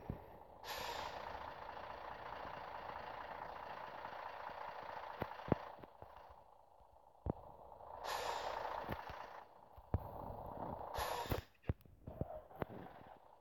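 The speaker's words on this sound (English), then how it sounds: "I stalled the truck." A cargo truck engine in a truck simulator game stalls, with a hissing air-brake burst at the start followed by a low engine rumble that cuts out. A few more hissing surges and clunks come after, with no voices.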